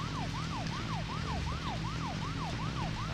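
A police car siren in the video game Deadly Premonition wails in a fast repeating rising-falling pattern over a steady engine drone, loud and continuous with no talk.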